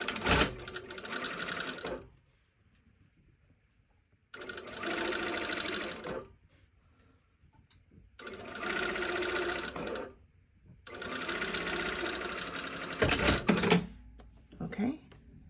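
A sewing machine stitches bias tape onto a fabric edge, running in four steady buzzing bursts separated by short pauses, close and fairly quiet.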